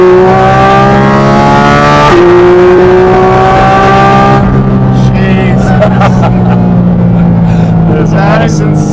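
A Porsche Cayman GT4 RS engine pulling hard in PDK Sport mode, a loud close rising howl that climbs through gears with a sharp shift near two seconds, then eases back to a lower burbling drone.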